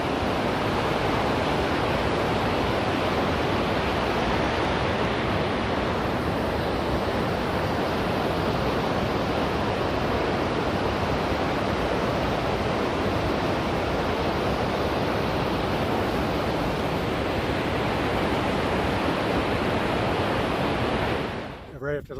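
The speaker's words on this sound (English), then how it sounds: "Gorgeous river, gorgeous waterfall." Loud, continuous roar of a river and waterfall on the Pacific Crest Trail near Selden Pass, a dense unbroken rush of water heard close up for the whole stretch.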